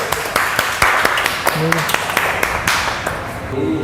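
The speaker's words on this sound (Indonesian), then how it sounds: "Tepuk tangan Mas Marito." A room at a Semarang comic community gathering gives Mas Marito a round of applause: sharp, regular claps carry over steady voices and crowd chatter.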